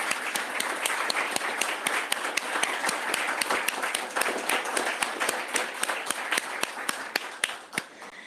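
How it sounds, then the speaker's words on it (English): Audience applause at a dietetic internship program graduation ceremony, a sustained round of clapping from a roomful of people that is steady and fairly close throughout. "Let's give another round of applause"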